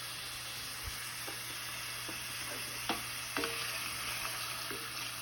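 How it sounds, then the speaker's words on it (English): Onions frying in a pan and being stirred, a constant low sizzle with scattered scrapes and soft knocks from the spoon against the bottom, close and moderately quiet. "make sure you keep your onions stirred around so none of them stick to the bottom"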